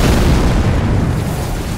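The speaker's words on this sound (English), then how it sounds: "what the fuck was that explosion?" A heavy explosion in Elden Ring Shadow of the Erdtree fills the moment with a loud, dense, rumbling roar that holds steady for nearly two seconds with no voices over it.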